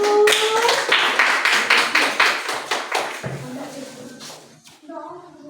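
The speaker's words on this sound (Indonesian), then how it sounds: "tepuk tangan untuk kelompok 1" Classroom clapping for a student group; a burst of loose hand claps from a handful of pupils, close and uneven, thinning out and fading after a few seconds as voices speak and chatter over and after it.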